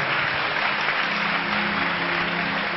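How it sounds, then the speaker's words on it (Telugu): A congregation applauds in a continuous, even wash of clapping, moderately loud and muffled, with no voices over it. "చప్పట్లు కొడదాం"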